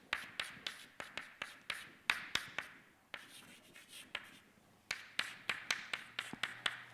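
Chalk or marker writing on a board in a lecture hall: close, sharp tapping strokes in quick bursts, with a short pause midway and no talk over it.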